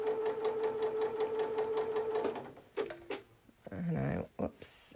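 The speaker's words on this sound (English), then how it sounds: "we're going to go ahead and sew right over these pins" A sewing machine stitches a quilt block over pins with a steady, rapid mechanical chatter for about two seconds, then stops, followed by a few clicks and a brief voice.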